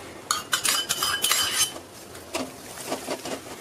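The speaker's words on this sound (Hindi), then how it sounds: "इस तरह से लगातार चला के आटा को भुनेंगे" Flour roasts in ghee in a pan while a metal spoon stirs it continuously, producing a series of close scraping and clinking strokes in uneven bursts, with no talking.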